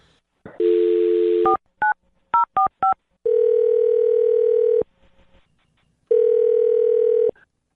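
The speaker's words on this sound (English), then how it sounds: "I'll dial his phone number right now." A phone handset gives a steady dial tone, then a quick series of short keypad beeps, followed by long ringing tones with a pause between.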